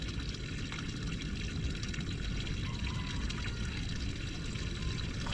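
Water trickling and splashing inside a boat, a continuous soft gurgling wash at a steady low level, close by with no voices.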